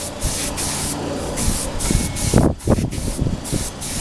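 Synergy Green paint sprays onto a wheel hub from a Yamaha FX600 restoration in a series of short, close hissing bursts separated by brief pauses.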